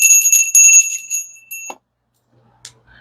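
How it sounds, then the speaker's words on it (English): Small hand bell rung close up, a bright metallic shimmering ring of rapid repeated strikes that rings for about a second and a half, then a last clink and silence with a faint later tap. "My bell came today."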